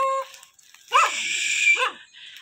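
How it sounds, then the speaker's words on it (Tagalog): A neighbour's dog barks from behind the house, a short burst of two or three close, fairly loud yelps after a brief high tone and quiet. "tinatahol ako ng aso ng kapitbahay namin"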